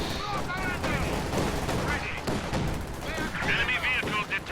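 Small arms gunfire crackles through a competitive match of a military video game, dense bursts of shots layered under continuous commentator talk and game noise.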